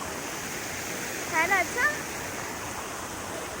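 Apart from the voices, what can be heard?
decorative water fountain running low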